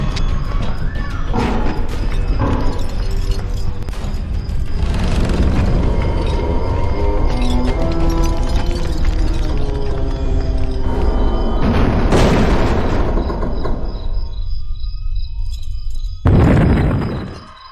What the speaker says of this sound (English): I'm taking the statue apart piece by piece